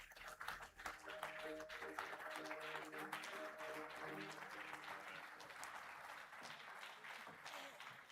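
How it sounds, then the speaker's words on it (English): A conference crowd applauds to welcome the Premier to the podium, with continuous clapping and cheering throughout, while tonal background music and voices run underneath during the first half. "Let's welcome her to the podium with a round of applause"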